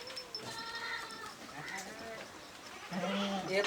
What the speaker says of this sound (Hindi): ये बड़ी भी अच्छी ब्रीड की बकरी वे